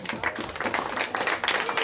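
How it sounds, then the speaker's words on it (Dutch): An audience applauds two young fighters after a kickboxing bout, a dense and steady burst of clapping at moderate volume with some voices mixed in. "graag een daverend applaus voor deze twee jonge strijders"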